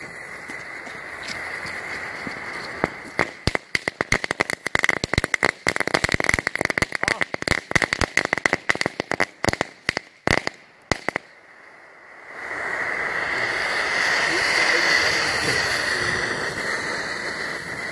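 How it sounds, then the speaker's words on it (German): New Year's Eve fireworks: a dense run of loud firecracker bangs and crackles, then a short pause before a Vesuvius fountain hisses and sprays steadily to the end. "Richtig schöner Vulkan, aber scheiß Böller"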